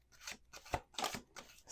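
A tarot card deck being shuffled by hand: four soft, rhythmic bursts of papery riffling and slapping, close up and fairly quiet, with no voices.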